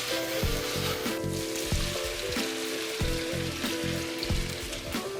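Garlic sizzles steadily in a pan while chicken thighs cook with lemon and sage. The broadband hiss runs continuously under a pulsing, low tonal backing.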